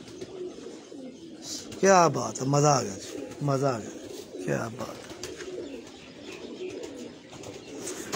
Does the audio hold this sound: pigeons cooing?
yes